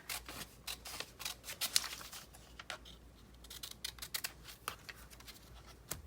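Scissors snip through paper for black art journal borders, a quick run of sharp, close, crisp cuts in uneven bursts with light rustling between them, no voices.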